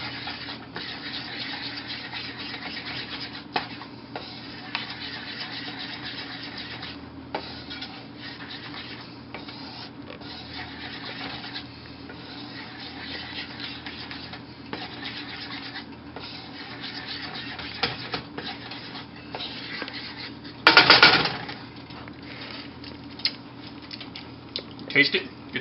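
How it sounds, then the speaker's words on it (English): A spoon scrapes and stirs brown gravy made from roux in a pan, a continuous soft rubbing and scratching over a long stretch with occasional sharper knocks and a brief louder burst near the end. "Stir it all up."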